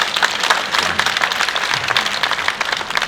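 An audience applauds, dense overlapping claps forming a lively, sustained wash of clapping at fairly close range.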